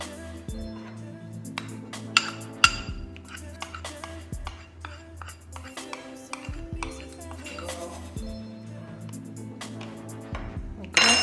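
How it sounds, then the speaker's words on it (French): A utensil stirs and scrapes rice flour in a bowl for gluten-free bread, giving repeated clinking and scraping strokes in an uneven rhythm, close by and fairly loud, with a brief sharper clatter near the end. "Donc je mélange avec la farine de riz."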